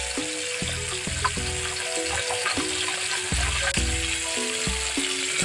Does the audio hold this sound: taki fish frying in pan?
yes